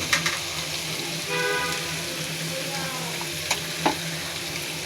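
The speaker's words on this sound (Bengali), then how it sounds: "এখন আমি আমার কুটে রাখা ছোট বাইন মাছগুলো দিয়ে দিচ্ছি" Small baim eels, cut up, hit a hot frying pan and sizzle steadily up close, with a few sharp clinks and scrapes of the pan and no speech.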